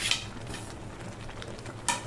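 A spoon scrapes and stirs roasted semolina for upma in a pan, soft continuous rustling with a couple of brief metallic clinks, close and fairly quiet, no speech.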